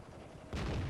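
A tank cannon fires in World of Tanks, a sudden heavy boom partway through that stays loud with a broad rumbling tail, with no talking over it.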